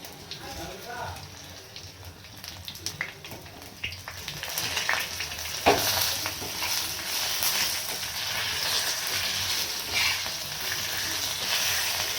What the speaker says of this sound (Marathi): सुकं खोबरं ते आपण चांगलं भाजून घेऊया. आणि धने भाजून घेऊया.